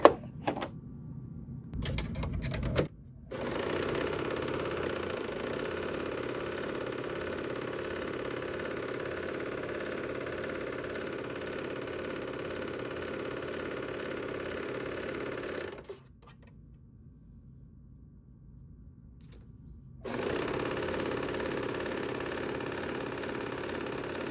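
Serger stitching a rolled hem on chiffon test fabric, a steady rapid mechanical whir running for long stretches, stopping briefly then resuming, close and loud with no talk.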